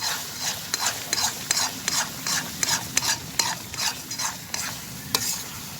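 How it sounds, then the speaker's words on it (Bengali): A spoon scrapes steadily through sticky olive pickle and sugar in a hot pan, making rhythmic clacks about twice a second over a soft continuous sizzle, close and clear with no voices. "চিনিটা দেওয়ার পর না এরকমভাবে আপনারা নাড়বেন, তা নাহলে পুড়ে যেতে পারে।"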